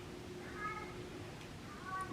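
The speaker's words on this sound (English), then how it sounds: "I probably can hear my cat crying." A pet cat cries with a couple of short meows, quiet and somewhat distant, over steady indoor room noise during a makeup routine.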